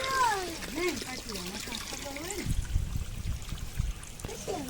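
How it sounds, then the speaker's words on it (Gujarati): Water runs from a hose pipe in a low, splashing gush that starts after a person finishes speaking and continues under quieter background sound. "હાલો રીતા બંધ કરો પાણી, નળી કાઢી આવજા ફિટ કરી."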